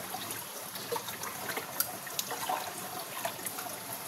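Running water pours into a bucket in a steady, fairly faint trickle, close by, with small splashes and drips scattered through the flow.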